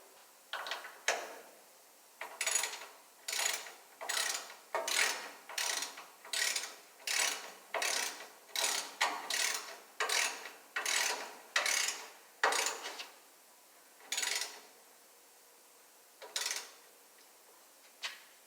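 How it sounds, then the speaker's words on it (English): A ratchet clicks in short repeated bursts while brake hard lines are tightened on a 1968 Mustang. The clicking runs in a steady rhythm close up, with pauses growing longer near the end. No talking. "Man, like my ratchet broke."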